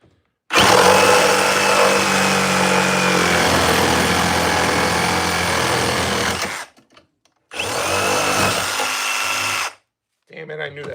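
Old school Milwaukee saw blade cutting through wood on a power tool: a loud, close whining buzz that runs for about six seconds, stops, then runs again in a shorter burst, with a brief restart at the end and a voice heard between the cuts.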